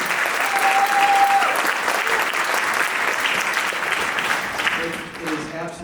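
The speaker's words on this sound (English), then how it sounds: "So it's been a good round of applause." A concert audience at an all-county school band event claps steadily, a broad, full round of applause that slowly thins toward the end as a few voices and cheers come through.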